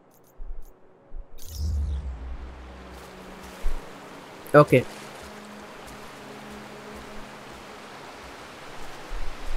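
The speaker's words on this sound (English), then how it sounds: "damn, look at the waterfalls." Rushing waterfalls in Marvel's Avengers make a steady, soft broadband hiss that swells and continues evenly through the second half, with a brief spoken word and a few thumps early on.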